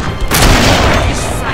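Gunfire in the video game The Darkness 2: a loud, close blast with a booming burst that decays into a rumbling tail.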